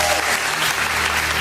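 A church congregation breaks into loud, sustained applause, dense clapping that fills the whole moment without a break.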